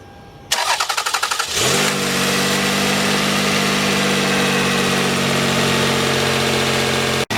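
A Toyota Camry V6 engine cranks with a rapid starter whir, catches and fires up, then settles into a steady, even idle up close with no talking.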